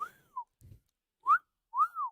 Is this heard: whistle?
yes